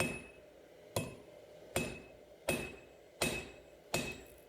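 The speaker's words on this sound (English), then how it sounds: "I've already got a pretty good blade structure and I'm already forging out the bar." A hammer forging a hot steel bar into a knife blade, six sharp ringing metallic strikes at a steady rhythm about once every three quarters of a second, close and loud.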